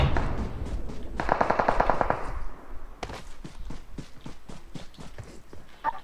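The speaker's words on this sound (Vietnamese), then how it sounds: "Trên đồi bắn kìa, trên đồi bắn kìa." Gunfire coming from a hill in a shooting video game: rapid automatic bursts rattle steadily across the whole stretch, a dense volley early on giving way to spaced single cracks, with no talking.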